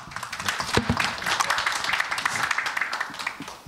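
Audience applause welcomes a pastor to the stage at a seminary book concert, a dense, steady patter of many hands clapping at close range for nearly four seconds with no talk over it.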